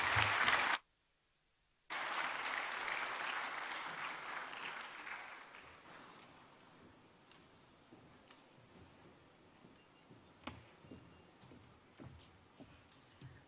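Applause at the Africa Prosperity Dialogues conference in the Accra International Conference Center, Ghana: a dense burst of clapping, a sudden silent gap, then the clapping resumes and slowly thins into scattered claps.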